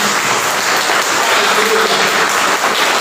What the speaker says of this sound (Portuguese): aplauda mais forte para ele